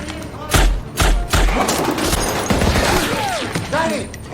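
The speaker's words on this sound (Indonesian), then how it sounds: "para teroris mulai berdatangan yang membuat Letnan Harris dan timnya harus adu tembak" Several heavy gunshots crack in quick succession in a film shootout with terrorists, followed by scattered shots and shouting voices in a chaotic exchange.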